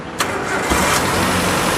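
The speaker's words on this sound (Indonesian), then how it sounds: "coba kita sekarang nyalain mesinnya, kita dengerin suaranya pas stasioner sama nanti kita gas" A 2012 Suzuki Carry Futura 1.5 pickup engine cranks briefly and catches, settling into a steady, close idle with a constant low rumble and no voices.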